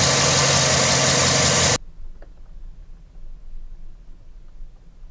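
A 2008 Chevrolet Silverado 5.3L V8 idles at 600 RPM after a spark plug and wire change. A loud, dense engine roar fills the first couple of seconds, then drops to a faint, low, steady rumble.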